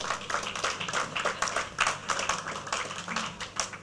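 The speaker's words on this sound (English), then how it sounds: "in the committee, please clap for them" Meeting attendees clap for committee members at an institute chapter gathering, a modest crowd's scattered hand claps holding steady through the moment, moderately near, with no talking over it.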